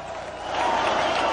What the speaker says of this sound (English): They are chanting for Marek at this point